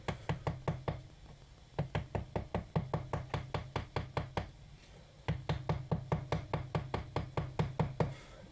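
A hand chisel carving a wooden rosette gives quick runs of sharp taps, several short bursts of crisp, evenly spaced knocks with brief pauses between them, close and clear, and no one speaking.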